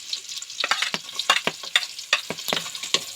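Bamboo shoots sauté in a pan over a wood fire on a farm, giving bursts of sizzling and frying with the scrape of stirring at close range.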